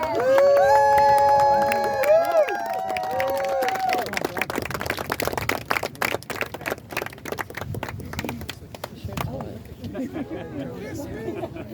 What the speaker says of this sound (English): Can everybody stand up and cheer them on?